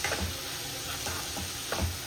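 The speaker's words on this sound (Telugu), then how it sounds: "ఇలా అంతా మంచిగా ఫ్రై చేసుకోవాలి ఆయిల్లో" Cabbage and chana dal frying in oil, a soft continuous sizzle with light clicks of a spoon stirring in the pan.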